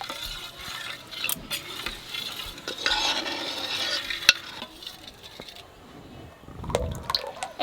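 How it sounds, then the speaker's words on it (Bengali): A spoon stirs a tomato puree mixture for tomato papad, making close wet scraping and swishing sounds in uneven strokes, with a soft clatter near the end. "এইবার টমেটোর পিউরি এর মধ্যে দিয়ে ভালো করে গুলাই নেব।"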